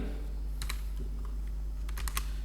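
Keys pressed on a computer keyboard while working in MS Word, landing as two short clusters of quiet clicks around the middle and near the end over a steady low hum, with no talking.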